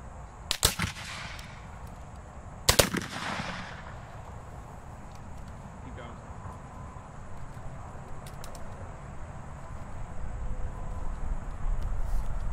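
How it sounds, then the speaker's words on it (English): Civil War infantry muskets at a reenactment demonstration fire by file, with two sharp loud volleys early on followed by a lull of faint background noise and sparse distant pops. "Fire by file. Commence firing."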